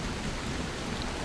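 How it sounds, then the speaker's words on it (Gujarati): Heavy rain pours in an animated story scene, a dense, steady hiss with low rumbling like distant thunder and wind, loud and continuous with no voices. "સવાર પડતા પડતા તો વરસાદ ખૂબ જ વરસવા લાગ્યો."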